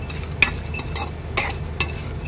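Dry fruits for laddoos fry in a pan and are stirred with a spoon, producing a soft steady sizzle with a few sharp metallic clinks of the utensil against the pan.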